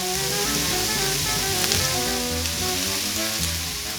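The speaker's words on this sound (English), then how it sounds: "you're going to saute until the onions are translucent and the apples are tender" Diced apples and onion sauté in a hot pan with salt, giving a continuous soft sizzle with faint popping throughout.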